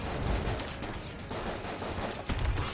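Rapid, continuous gunfire from an unfamiliar weapon in Enter the Gungeon, dense overlapping bursts at steady loudness throughout with no talking.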